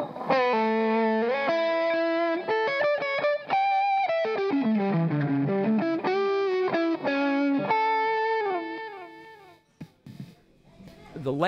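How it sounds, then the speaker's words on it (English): Electric guitar driven through a turbo drive pedal into a 4x12 cabinet plays loud, thick overdriven lines with bends and vibrato for about ten seconds, then drops to quieter scraping at the end. "The turbo drive is a little fatter."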